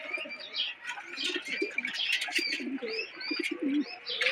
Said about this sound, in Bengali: বুলবুলি পাখি এসে এসে জাম খেয়ে যাচ্ছে